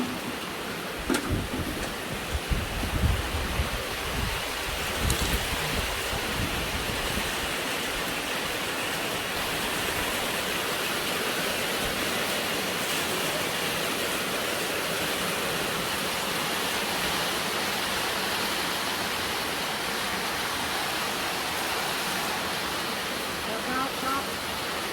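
A storm with heavy rain and wind makes a steady, dense roar that fills the whole stretch, with gusty low rumbling buffets in the first several seconds.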